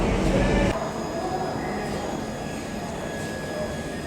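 Steady rumble and rattle inside a moving Kulik Express train on the Howrah to Radhikapur route, heard from the rear Vistadome coach, with a louder burst at the start and then a constant running drone with faint squealing tones.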